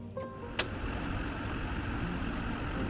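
A used ambulance's diesel engine runs at a steady idle, giving a continuous low rumble with a faint high whine and one brief sharp click near the start. No one speaks.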